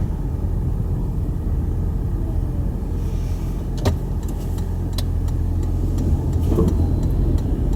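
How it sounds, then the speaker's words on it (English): Toyota Prius hybrid driving on snow, a steady low road and engine rumble from inside the car with a few sharp clicks and knocks partway through, fairly loud and continuous with no talking. "I'm just going to drive around a little bit to let the engine and hybrid system warm up a little bit"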